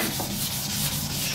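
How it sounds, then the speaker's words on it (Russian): Sandpaper rubs steadily over matte-painted car bodywork, a continuous close, loud scratchy scrubbing with no pauses and no voices. "Также песочек убираем, также затираем"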